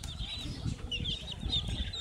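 A young chick on a breeding-stock ranch in Venustiano Carranza, Michoacán, gives soft, high, close chirps and quiet clucks in quick irregular bursts over a low background murmur.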